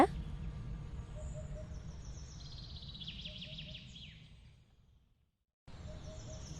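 Birds chirp in a Tamil cartoon, thin high twittering calls rising over a low rumbling background that fades to silence before returning.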